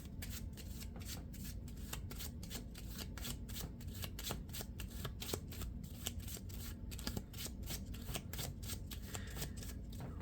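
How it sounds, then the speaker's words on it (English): A deck of Marvel Champions encounter cards is shuffled continuously for about ten seconds, giving a steady run of crisp, close riffling snaps with no voices. "Shuffle the rest of that encounter set and place it on top of the encounter deck"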